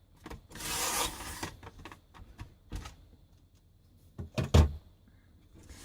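Paper being trimmed for a scrapbook page, soft close scraping and rubbing strokes with a few sharper taps and clicks near the end, quiet and without talk.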